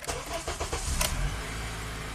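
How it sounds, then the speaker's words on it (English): A starter cranks in quick chugging bursts before a Honda car's engine catches and settles into a low, steady idle nearby; the car is stuck in park. "Let's start the car."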